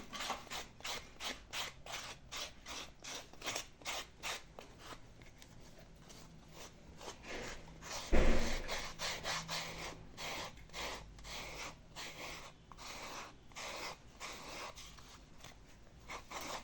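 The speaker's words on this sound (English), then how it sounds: "use your sandpaper to reduce all around" Sandpaper rubs around the edge of a sandal inner sole template in quick, repeated close-up strokes, a soft steady rasping rhythm with one louder scrape midway and no talking.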